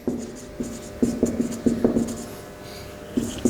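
A math lecturer writes a symmetric matrix condition on a board, the scratchy strokes coming in short close bursts separated by brief pauses, with no talking.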